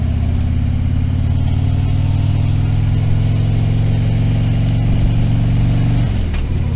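A Honda Gold Wing motorcycle engine runs loud and close, holding a steady mid-pitched drone that shifts and drops away near the end as it passes, with no voices present.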